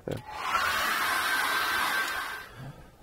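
A hair dryer blows on a painting of a mountain and lake cabin, a loud steady whooshing roar that starts abruptly, runs for about two seconds and then cuts off, with a faint click at each end.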